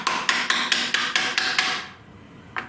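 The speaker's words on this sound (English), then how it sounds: "I was hammering down this side" Steady close hammer blows drive a plastic ring into a custom subwoofer, about eight sharp evenly spaced knocks that stop abruptly, followed by a brief pause and one last light tap.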